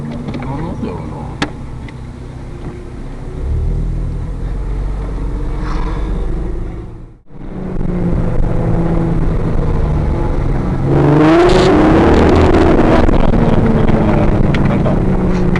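Car engine running with an abnormal sucking, intake-like noise, a steady low rumble mixed with wind buffeting on the microphone, briefly dropping out before returning louder, while a person talks over it.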